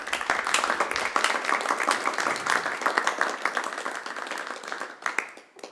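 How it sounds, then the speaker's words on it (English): Audience applause at a React Native community meet-up in Kraków, a room of people clapping steadily for several seconds before it thins out and stops. "Let's welcome with applause maybe the next person, the next people who will present, Bartek and Łukasz."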